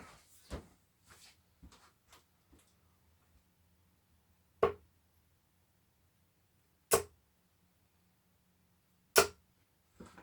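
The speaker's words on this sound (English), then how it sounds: "I'm pretty sure you can hear all the darts are hitting together" Darts strike a dartboard during rapid throwing. A cluster of light clicks comes first, then three sharp, loud impacts spaced a couple of seconds apart in an otherwise quiet room.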